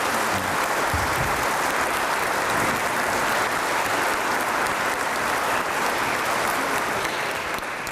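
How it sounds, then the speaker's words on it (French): Steady applause from a church congregation welcoming first communion children, a dense sustained clapping wash that holds evenly for the whole stretch with no voices over it. "Je voudrais d'abord qu'on les applaudisse pour leur courage."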